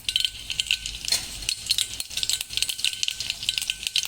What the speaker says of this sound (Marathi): मी फोडणी करून घेईन.